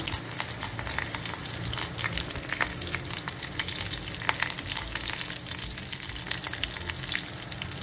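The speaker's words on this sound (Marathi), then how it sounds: "आता कढीपत्ता टाकायचा." Curry leaves crackle and sizzle in hot oil for a dosa chutney tempering, a steady close frying hiss with dense popping throughout and no talk.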